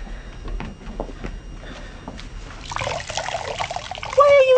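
Water squeezed out of a wet sponge, a trickling and splattering dribble that builds into a louder splash near the end, close by, with a voice speaking earlier.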